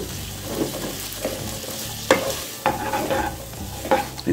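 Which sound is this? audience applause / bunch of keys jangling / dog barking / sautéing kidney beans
sautéing kidney beans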